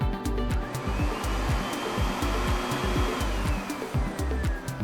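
XLERATORsync hand dryer running after its sensor was replaced, a loud steady whooshing blast of air with a rapid, regular pulsing flutter underneath, heard alone.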